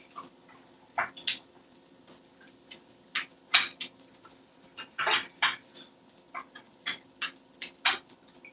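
Ground beef and gomitoni pasta stirred together in a pan: a run of close, irregular scraping clanks and clinks from a utensil against the pan, about a dozen sharp hits spread steadily with no talking.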